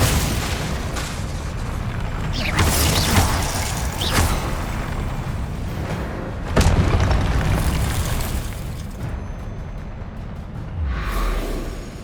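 Loud, dense booms and bursts from spell explosions during combat in Hogwarts Legacy, several heavy blasts with whooshes layered over continuous game noise, close and full.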